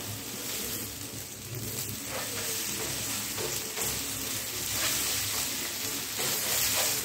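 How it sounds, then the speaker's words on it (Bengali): Egg fries in a hot pan with a steady, fairly faint crackling sizzle, broken by soft scrapes as a spatula stirs and breaks it up. "তখন এর মধ্যে ডিম দিয়ে ডিমটা ভেজে নিতে হবে।"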